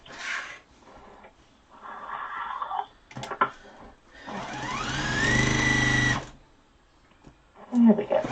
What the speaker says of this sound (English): Sewing quilts.